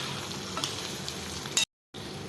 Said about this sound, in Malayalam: മുട്ട അതിലോട്ടിട്ട് ഒന്ന് ഇളക്കി യോജിപ്പിക്കുക